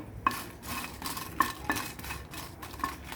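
Byadgi dried red chillies roasting in oil in a pan, stirred with a metal spoon that gives a few sharp clinks over a soft, steady sizzle, close by and fairly quiet.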